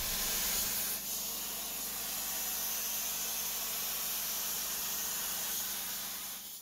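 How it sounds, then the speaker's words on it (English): A plasma cutter slicing through metal gives off a loud, steady broadband hiss that holds for several seconds, with a faint low hum underneath. "This is a plasma cutter, and it cuts metal quite well."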